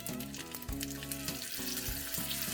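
Soy sauce poured around the ring of a hot pan sizzles and caramelizes, a loud, dense, continuous frying crackle with steady bubbling and no talking.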